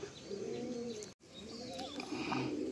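Madrasi pigeons at a sale coo and murmur close by, soft wavering calls with light chirps over a low background, briefly cut off partway through.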